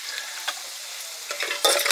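Chicken sizzles steadily in a pan over a wood-fired stove, with a few brief scraping stirs of a spoon and a louder burst of frying toward the end.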